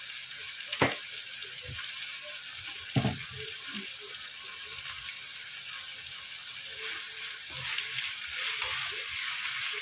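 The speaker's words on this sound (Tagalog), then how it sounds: "Yan, ating sasangkot sa muna siya." Chicken sautéing with shrimp paste in a pan for a taro leaf dish, giving a steady broad sizzle with a few sharp stirring knocks early on, close and continuous with no talking.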